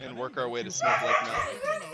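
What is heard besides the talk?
dog barking, medium-sized mutt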